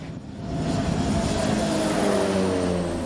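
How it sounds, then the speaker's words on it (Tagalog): A fixed-wing airplane flown over Scarborough Shoal by the Philippine fisheries bureau drones steadily overhead, its engine rumble swelling slightly and holding loud and continuous with no talking. "Nagpalipad ng eroplano ang BIFAR."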